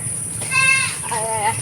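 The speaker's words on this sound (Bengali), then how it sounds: "এইটা হচ্ছে ওদের ছাগল যে বাড়িতে বিক্রি করছি, ওদের ছাগল, এটা খাসি।" A castrated male goat bleats twice in a short wavering call outdoors near a village home, close and clear over quiet background.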